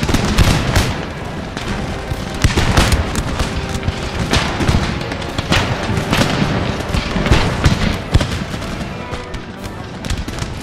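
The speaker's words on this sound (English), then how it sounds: "A massive exchange of fire ensued" Massed musket volleys and gunfire from a large battle in Empire Total War, a dense, continuous crackle of overlapping shots and booms, loud and sustained with no voices.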